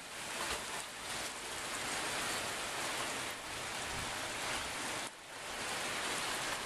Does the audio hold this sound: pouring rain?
yes